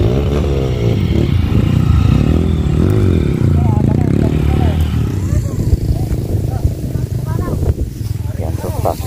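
A motorcycle ridden on a mountain trail in Benguet, its engine droning and revving steadily throughout, with voices talking over it.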